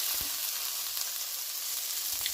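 Jerk shrimp frying in a pan, a steady soft broadband sizzle with faint pops, quiet and continuous with no voices.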